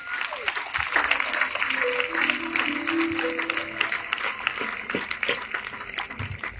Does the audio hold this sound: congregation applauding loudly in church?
yes